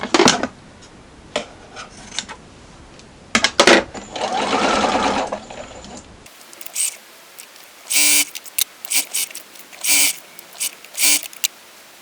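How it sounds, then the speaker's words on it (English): A sewing machine stitches through a flattened patchwork seam of leftover fabric in a log cabin block, short whirring bursts of needle running start and stop in an uneven rhythm, close and clear with no talking. "I just flatten it down and sew through."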